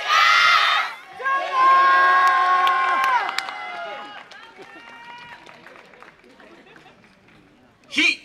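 A crowd at a Yosakoi dance festival in Tochigi roars and shouts in a loud burst that gives way to sustained, fading group calls and cheers, then a brief shout flares up again at the end.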